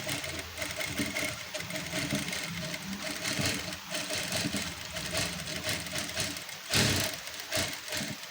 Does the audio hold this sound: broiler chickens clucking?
no